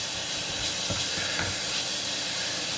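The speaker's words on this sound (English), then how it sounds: "we got some steam going on" Steady, loud steam hiss from a pot of stuffed bell pepper soup cooking on the stove, a continuous broadband rush with faint bubbling underneath and no talking.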